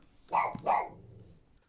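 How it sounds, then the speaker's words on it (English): A dog gives two quick, close barks in succession indoors, followed by quiet. "But dog screamed at me when I walked past"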